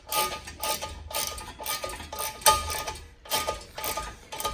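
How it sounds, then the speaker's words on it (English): A socket wrench with an extension and a 6mm Allen socket tightens the bottom bolts of a front-mount intercooler on a Fiat 124 Spider Abarth, giving close, repeated ratcheting bursts in an irregular rhythm, with no talk. "I've got my socket wrench, extension, and then 6mm Allen socket. And I'm just going to tighten these bottom bolts first."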